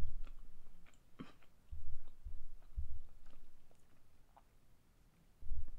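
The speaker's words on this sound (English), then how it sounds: "I'm chewing upside down" Someone chews while upside down: soft, irregular mouth sounds with low thumps and small clicks, close but quiet, with brief pauses between bursts.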